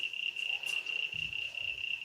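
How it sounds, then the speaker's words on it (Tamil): Frogs croak in low, uneven bursts near the midpoint after rain, set against a steady high insect trill that runs through the whole stretch, quiet and outdoor, with no talking. "என்ன தவளை சத்தம் ஓவராக இருக்கு"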